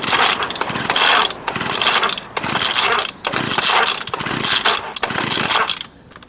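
A petrol hedge trimmer engine runs loud and close, trimming a fire bush, its broadband roar bogging and surging in repeated bursts with brief dips between throttle attempts.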